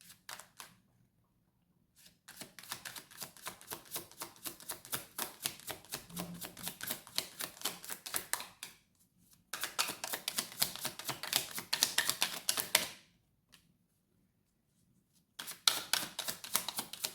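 A deck of psychic reading cards being shuffled in repeated bursts of dense, rapid riffling clicks, each run lasting a few seconds and separated by short pauses, close and fairly quiet.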